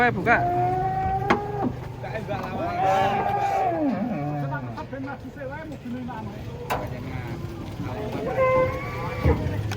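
A giant cow, just unloaded from a truck, lets out long, loud moos that rise and fall, several in a row at close range, while people talk nearby.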